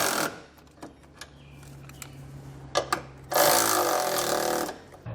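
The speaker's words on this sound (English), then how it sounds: "With all of our hardware in place, we can come back and snug it all down." Hardware for a Curt trailer hitch receiver being snugged down on a 2019 Kia Niro, heard as scattered clicks and ratchet-like taps before a loud, sustained burst of a power tool running for over a second near the end.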